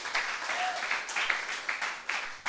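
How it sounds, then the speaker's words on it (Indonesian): Lively applause from a congregation at an evening prayer service, a steady wash of many hands clapping close by for a couple of seconds. "Tepuk tangannya paling meriah."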